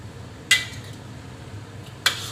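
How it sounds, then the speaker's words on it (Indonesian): Two bright metallic clinks from a utensil striking a pan while sautéed beef is stirred for rendang, spaced about a second and a half apart over a quiet background. "Kita terus aduk ini, daging yang sudah kita tumis"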